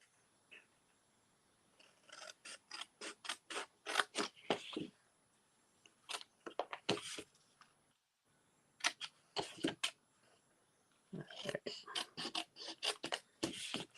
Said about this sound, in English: all of that's going to get cut off just with scissors.